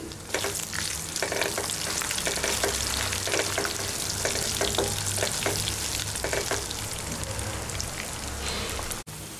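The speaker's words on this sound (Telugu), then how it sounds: "వేసుకున్నాక వీటిని ఒక నిమిషం పాటు వేయించుకోవాలి." Whole cumin, cardamom, cinnamon, cloves and peppercorns fry in hot oil with a dense, continuous sizzle. Frequent crackles and pops run through it, and there is occasional stirring. A sharp click comes near the end.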